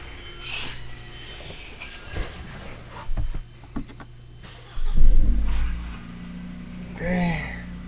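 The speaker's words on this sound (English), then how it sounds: "Let's start the vehicle." A vehicle starts up after its coolant has been refilled: a low engine rumble swells in the middle and settles into running, mixed with scattered clicks and faint background noise at moderate loudness.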